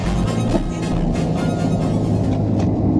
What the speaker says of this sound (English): that is the welded diff you hear in the back